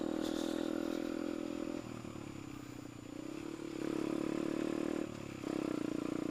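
A Yamaha Jupiter MX motorcycle engine, upgraded from 135 to 150 cc, running steadily with a buzzy, slightly rattling hum that dips and rises in pitch as the revs change, loud and close throughout.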